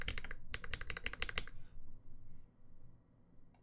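A quick flurry of clacking keystrokes on a Cherry MX Black mechanical keyboard, close and crisp, then stops and leaves near silence before one last key press.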